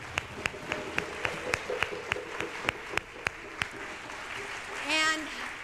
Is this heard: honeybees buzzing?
no